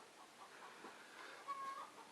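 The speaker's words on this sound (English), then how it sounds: "can you hear the chickens?" A hen clucks faintly in a short run of soft, repeated calls, as if just after laying an egg, heard at a distance with no talk over it.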